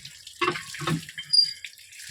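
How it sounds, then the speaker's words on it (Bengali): Water splashes over feet in a bathroom, a few short uneven bursts of pouring and slapping water, fairly close and quiet, with no talking. "পাটা ধোয়া হয়ে গেল"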